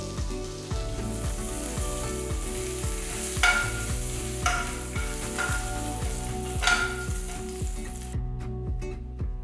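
A tempering of mustard seeds, dried red chillies, asafoetida and curry leaves sizzles and crackles in hot sesame oil, with a continuous frying hiss and occasional sharper pops, all under rhythmic background music.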